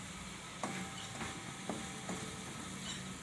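Kali mali bhaji simmering in masala in a kadai over a low flame, with a soft continuous sizzle and several light, evenly spaced stirring scrapes.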